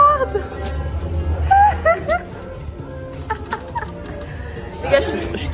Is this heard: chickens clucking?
yes